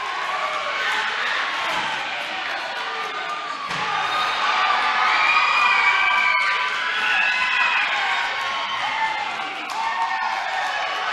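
A wrestling arena crowd cheers and shouts in a continuous, loud roar that swells slightly midway, with a few sharp thuds cutting through the din.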